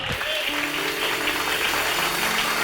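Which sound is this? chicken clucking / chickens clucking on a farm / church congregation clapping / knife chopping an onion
church congregation clapping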